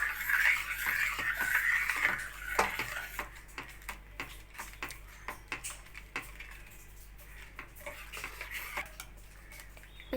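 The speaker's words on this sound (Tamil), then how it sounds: "இப்போ கிரைண்ட் பண்ண கேரட் பேஸ்ட்டை அதில் ஆட் பண்ணிக்கலாம். இப்போ இது நல்லா மிக்ஸ் பண்ணிக்கலாம்." A spoon stirs grated carrot paste into boiled milk in a metal pot, with steady scraping and light clinks against the sides under a low, constant background hum.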